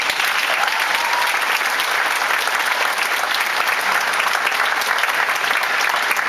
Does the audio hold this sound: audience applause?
yes